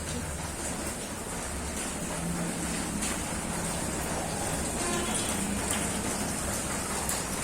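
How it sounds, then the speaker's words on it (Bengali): Steady rain keeps falling after a storm in a rural Bengali setting, a dense, even hiss that stays constant throughout. Faint background murmurs sit under it, but no clear speech. "এখনো বৃষ্টি পড়ছে"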